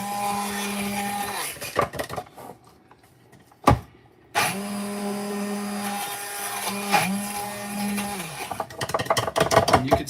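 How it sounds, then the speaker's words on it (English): An immersion blender whirring through lime salad dressing in a kitchen, running in several bursts with short pauses and pitch dips as it bogs down, fairly close. "using your immersion blender"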